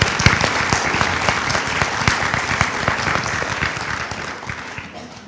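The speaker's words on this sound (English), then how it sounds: "We should give them another round of applause." A commencement ceremony audience gives a round of applause: dense, steady clapping from a large crowd that fills the space and slowly tapers toward the end.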